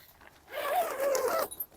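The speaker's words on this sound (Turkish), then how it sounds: "Alt taban kısmının fermuarı ise bu kısımda şu şekilde" The zipper on the floor section of a High Peak Amora 5 tent is pulled in one smooth, close, raspy stroke lasting about a second, ending with a couple of small clicks.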